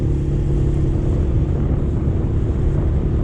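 A motor fishing boat runs at full speed through normal-sized waves at sea, a loud, unbroken roar of engine and rushing wind and water that holds steady from start to finish.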